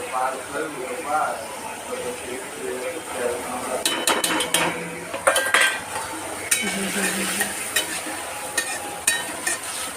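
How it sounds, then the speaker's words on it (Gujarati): Curry leaves, tomatoes and green chilies fry in a pan for batata poha, sizzling steadily up close. A metal spoon scrapes and clinks against the pan in bursts, and speech is heard intermittently over it. "હવે એમાં હું સ્લાઈડ કરીને મીઠો લીમડો નાખી દઉં અને ટામેટાં અને મરચાં."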